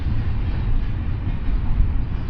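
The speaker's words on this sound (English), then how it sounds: "That train is still going." A long passing train rumbles steadily and loudly nearby, a continuous heavy roar of rail cars with no break for the whole stretch.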